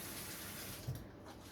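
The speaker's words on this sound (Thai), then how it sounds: "เห็นไหมน้ำร้อนเปิดมาจากก๊อกได้เลยนะคะ" Hot water runs steadily from a kitchen tap in Iceland, a continuous soft hiss of flow, with a small shift in the stream near the end.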